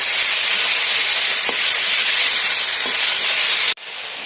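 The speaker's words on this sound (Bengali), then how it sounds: "মোচা আলু, একটু ভালো করে কষিয়ে নেব।" Banana flower and potatoes sauté in a hot pan, giving a steady, loud sizzle with a couple of soft stirring scrapes before the hiss abruptly drops to a lower level near the end.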